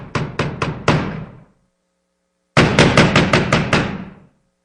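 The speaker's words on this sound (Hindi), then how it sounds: "जोर जोर से टूनिका के गेट खटखटाने लगी" Loud, sharp knocks hit a gate in two quick bursts, four raps, a pause of silence, then a longer run of about seven rapid blows, close and forceful.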